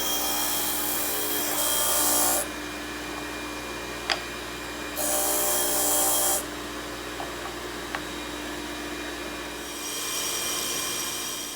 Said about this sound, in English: The sander is convenient for easing or chamfering edges and rounding corners.